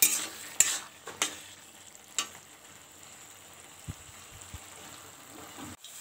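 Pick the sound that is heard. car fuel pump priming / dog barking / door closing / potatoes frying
potatoes frying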